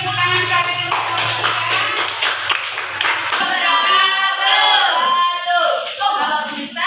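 An audience claps for group 3 in a classroom, a dense patter of many hands that continues steadily throughout, with voices mixed in.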